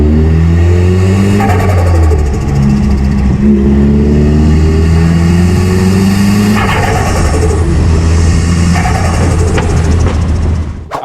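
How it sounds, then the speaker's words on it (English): Modified turbocharged car with a blocked blow-off valve, metal intake pipe, pod filter and full front-mount intercooler, revving loudly and steadily with rising and falling engine pitch and repeated turbo flutter bursts, close and alone. "I'll put in some sound clips here of what my setup sounds like with blocked off blow-off valve, metal intake pipe, pod filter, and a full front mount intercooler"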